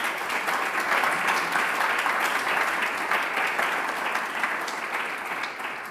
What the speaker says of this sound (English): I would like to give a round of applause to Herbert Kort